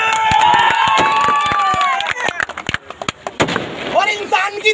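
Crowd clapping at a welcome ceremony for a pigeon-keeping ustad, loud and dense at first, mixed with cheering and voices, then breaking into sharper scattered claps and shouts.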